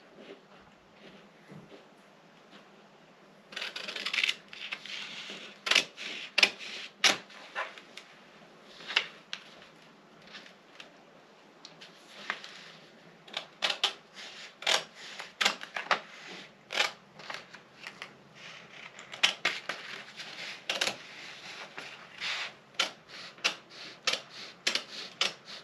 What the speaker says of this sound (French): Donc là, je viens couper.